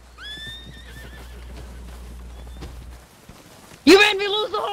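A horse in Red Dead Redemption 2 gives a high, wavering whinny at the start, then a second loud neigh near the end among hoofbeats, with steady background hum and someone talking.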